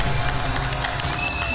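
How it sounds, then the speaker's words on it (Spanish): A studio audience on a Chilean television show breaks into applause: a brief, loud, dense wash of clapping and crowd noise filling the whole moment. "Un aplauso."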